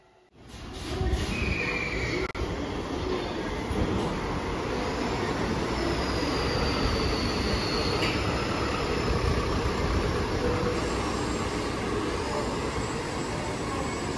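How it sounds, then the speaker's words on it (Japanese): A heavy road-rail truck rumbles steadily along railway tracks nearby at a station platform in Japan, a continuous low grinding roar with faint metallic squeals, no voices. "線路と道路を走れるという起陸車というトラックが走っていました。"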